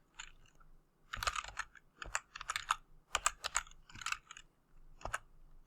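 Close, quiet computer keyboard typing for a site layout drawing, with irregular bursts of key clicks separated by short pauses and one final single tap, no voices.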